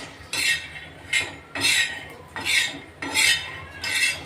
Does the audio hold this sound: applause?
no